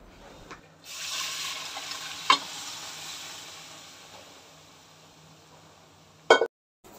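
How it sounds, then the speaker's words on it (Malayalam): Ground spices and chili powder fry and get stirred in a pan as the base for a beef curry: a steady broad sizzle starts after a second and runs for about five seconds, with a sharp clatter near the end before it cuts off. "ഇനി നമുക്കിതൊന്ന് ഈ മസാലകളൊന്ന് മൂപ്പിച്ചെടുക്കാം."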